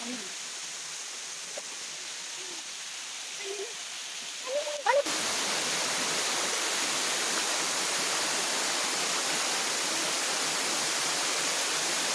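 Kundadka waterfall roars as a loud, constant rushing wash. It arrives abruptly after a quieter stretch with a few faint voices, then continues unbroken to the end.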